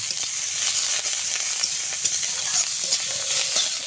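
Ivy gourd greens fry in oil with salt and turmeric in a village Bengali kitchen, giving a steady bright sizzle with faint crackles and light stirring, close and continuous, with no voices.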